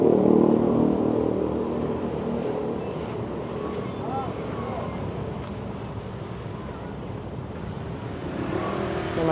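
Evening traffic jam on a street in Cipanas, Indonesia: a steady rumble of cars and engines crawling past nearby, with muffled voices in the background.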